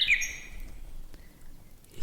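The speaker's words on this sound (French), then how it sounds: "l'oiseau se rengorge pour libérer le chant le plus mélodieux jamais" A nightingale gives a short bright trill at the opening, then fades into quiet with a faint thin whistle afterward, as a story sound effect.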